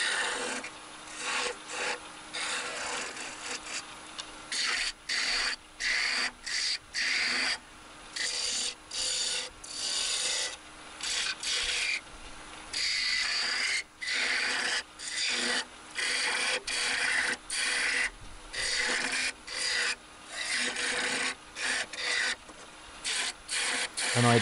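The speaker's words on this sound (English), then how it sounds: "I'm just sanding that so I don't have to touch it again." Sanding on a woodturning piece as it spins on the lathe, a raspy rubbing hiss in repeated short strokes with brief gaps, close and moderately quiet, with no talking.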